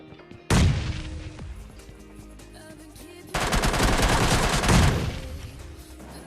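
Gunfire in the PUBG Lite battle-royale game: two loud bursts of rapid automatic fire, the first short and the second longer and denser, close and dominant with no talk over them.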